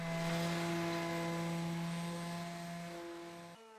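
A Skil Octo sander sands off paint with a steady, droning motor whine that stays even and fairly quiet before cutting off abruptly near the end.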